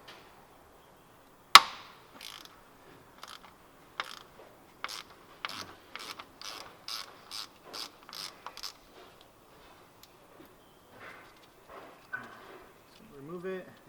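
A 3/8 ratchet with an extension clicks in quick, sharp bursts while loosening a transmission plug on a 2005 Ford Escape, with one loud knock near the start and faint sounds afterward, close and quiet.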